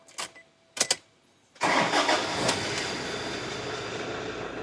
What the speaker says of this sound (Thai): ก็ผมจะลองสตาร์ทเครื่องยนต์นะครับ ฟังเสียงกันดูสักนิดหนึ่ง